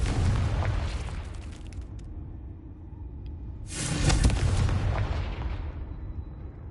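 A Confringo spell explodes in Hogwarts Legacy with a loud, rumbling boom midway through, set against a steady roar of game noise, with no talk.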